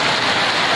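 Heavy rain pours down steadily in a dense, continuous hiss, loud and close, with no voices over it.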